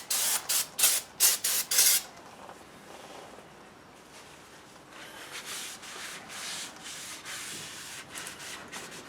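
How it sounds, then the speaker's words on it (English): Brake parts cleaner hisses onto the brake rotor of a 2004 GMC Sierra 1500 in several short, close bursts, followed by quieter rubbing and faint hissing. "I'll give that a quick little freshen up with some brake parts cleaner"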